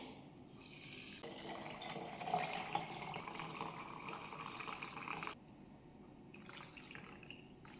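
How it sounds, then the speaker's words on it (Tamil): Water poured into a jar to make detox water: a soft, fairly quiet, continuous splashing stream that runs for a few seconds, then stops, followed by a few faint trickles. "இப்போ நான் இதில் வாட்டர் போட்டுக்கிறேன்"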